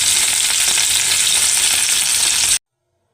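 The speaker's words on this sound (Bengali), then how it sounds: "নুন হলুদ মাখানো কমপ্লিট। তেলটা গরম হয়ে এসেছে। এবার একে একে চিংড়ি মাছগুলো ছেড়ে দিয়েছি।" Salt-and-turmeric-coated prawns fry in hot oil, giving a loud, steady, close sizzle that cuts off abruptly near the end.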